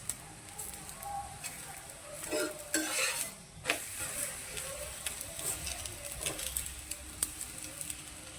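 A mung dal thepla roasts on a pan over low flame, with a quiet steady sizzle, scraping spatula strokes and occasional clinks of utensil on metal close by.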